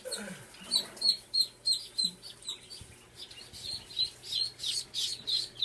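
Soaking-wet ducklings, freshly out of their first bath and drying under a heat lamp, give a rapid run of shrill, close peeps at a steady pulse, with a faint voice at the start.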